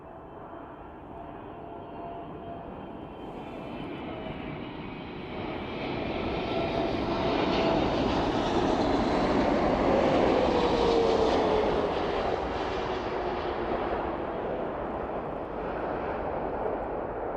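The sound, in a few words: Spitfire and Boeing 777 aircraft at airport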